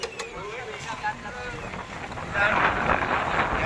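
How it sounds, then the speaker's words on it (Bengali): Wind blows steadily outdoors at a busy riverside spot, a continuous rushing roar against the microphone that swells near the end. "দারুণ হাওয়া হচ্ছে এখানে দারুণ"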